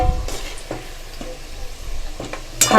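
Taro (gathi kochu) pieces frying in oil in a pan, a low steady sizzle broken by a few soft stirring scrapes and clinks, with a louder clatter near the end.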